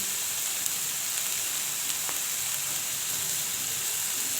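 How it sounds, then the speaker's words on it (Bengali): Food sautéing in a pan with turmeric and salt, for an egg and potato curry, gives a steady, dense sizzle and hiss that runs unbroken throughout, with faint scattered crackles and no voices. "ভালো করে কষিয়ে নেব"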